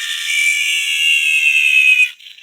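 High-pitched bearing whine from a Z-Stack in a Magic yo-yo N9, loud, steady and close for about two seconds, then cutting off abruptly.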